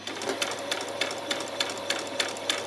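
A sewing machine runs close up, stitching fabric for a peasant top, a rapid, evenly ticking mechanical whir with regular clicks.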